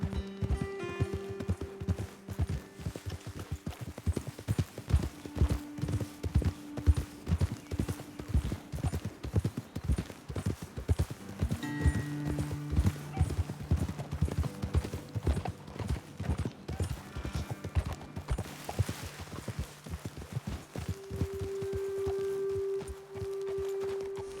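Horses' hooves clip-clop steadily on a trail in Red Dead Redemption 2, a rapid, continuous rhythm of close, even beats that runs throughout, with a brief whinny-like tone and little talk.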